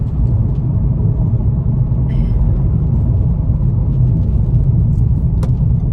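A hot hatch engine hums steadily at low pitch with a faint turbo whistle rising briefly, heard from inside the cabin on a track as a constant rumble.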